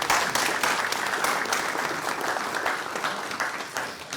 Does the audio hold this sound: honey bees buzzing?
no